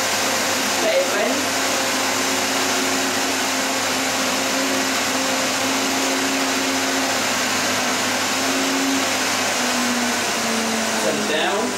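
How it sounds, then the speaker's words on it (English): A powerful blender whirs through a high-protein superfood smoothie, a loud, steady motor drone holding for about twelve seconds with a slight pitch rise as it is turned up, with no talking over it. "That's a powerful blender there."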